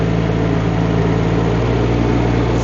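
A Rippa R18 mini excavator drives in high gear, its diesel engine droning loud and steady with a constant low hum, close and uninterrupted.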